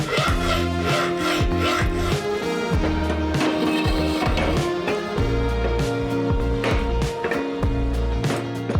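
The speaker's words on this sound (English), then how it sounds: "I'm gonna pull this off and shave 3/8 of an inch off of the end of the splines" Steel shaved off the splined end of a Ford 9 inch rear axle shaft, a loud, close, rhythmic rasping of repeated strokes that continues throughout with no talking.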